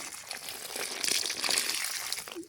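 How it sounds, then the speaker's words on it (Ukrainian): Water is poured onto the soil around newly planted hostas, making a short splashing gush that builds and fades over a couple of seconds, close and fairly loud. "Треба залити, щоб ґрунт сів."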